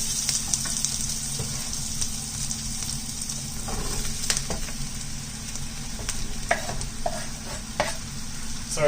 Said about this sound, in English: Now we're going to add our mushrooms.